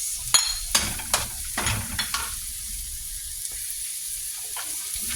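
Garlic and onion sauté in a pan, a low continuous sizzle with several spatula scrapes and clacks in the first couple of seconds, then quieter frying alone.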